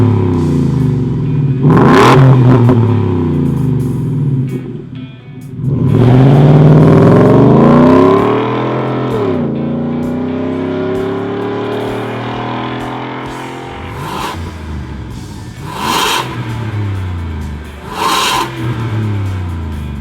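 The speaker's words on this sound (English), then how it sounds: "you can enjoy the new sound of your Ford V8" Ford F-150 V8 fitted with an X-Force Varex 3-inch catback exhaust revving hard several times, a long rising roar followed by short sharp blips, loud and close with no talking.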